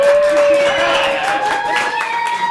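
A comedy club crowd at a live show claps and cheers in a continuous loud burst, with a voice carrying over the applause.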